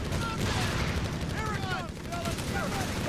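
Dense gunfire and small-arms fusillade from a Company of Heroes 3 match, DAK versus USF, rumbling steadily with distant booms mixed in, under a continuous bed of game noise and a commentator's voice.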